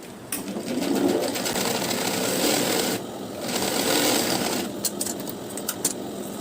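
A sewing machine stitches blouse lining in two steady motor-driven runs with a short pause between them, close and fairly loud, followed by a few light clicks.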